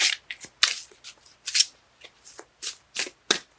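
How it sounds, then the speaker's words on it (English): Tarot cards being shuffled by hand produce a run of quick, crisp riffling bursts with short pauses between them, close and clear with no talking. "Cards let me know when they're done shuffling."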